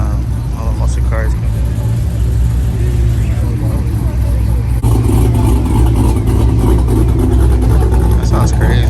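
A car engine revs hard at a busy car meet, a loud rumble with a sudden rise partway through, over constant crowd noise and nearby voices.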